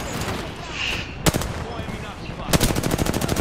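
Automatic weapon fire in an Apex Legends battle royale match, loud sharp bursts at roughly 1.3 and 2.5 seconds with a rapid rattling volley continuing to the end, under ongoing game noise and talk.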